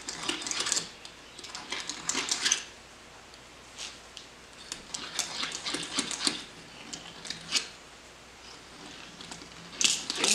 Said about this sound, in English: Deburr the back of these holes.